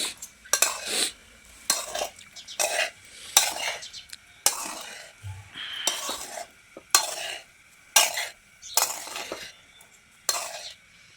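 Sago being stirred in a cooking pan, a steady series of rhythmic scraping strokes about once a second, close and fairly loud with a faint sizzle underneath.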